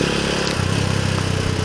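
A 2018 Rusi Gamma 200 motorcycle, the timing-chain version known for heavy vibration, runs with a close, steady, throbbing engine drone in a brief burst.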